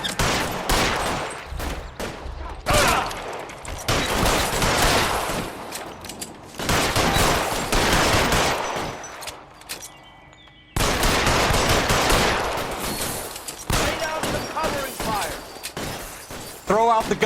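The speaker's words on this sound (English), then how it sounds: "Fire a warning round." Gunfire in the video game L.A. Noire during a shootout with security men, dense rapid bursts of automatic fire almost continuously, with brief gaps and shattering impacts.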